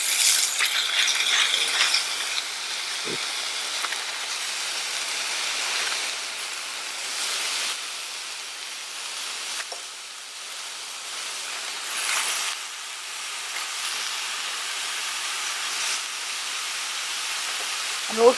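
Vegetables hit a hot pan during a camping dumpling stir-fry, giving a steady broadband sizzle and hiss that runs throughout with small crackles, loud and close, with no talking.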